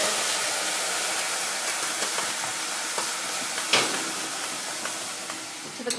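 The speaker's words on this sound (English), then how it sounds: "now I'm going to add about a cup of boiling water" Boiling water is poured into a hot pan at the bottom of an oven holding sourdough loaves, and it sets off a loud, close, rushing steam hiss with sizzle. The hiss is steady, then fades slowly toward the end.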